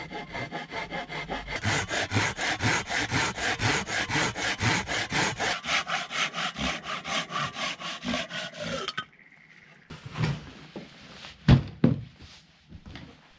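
A hand saw cuts through wooden flooring boards, a steady rhythmic rasp of quick back-and-forth strokes for about nine seconds, followed by a few scattered knocks and thuds as the cut piece is handled.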